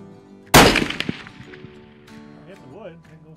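A Knight muzzleloader rifle fires once, a sharp loud blast followed by a decaying rumble and echo, with voices faintly present afterward.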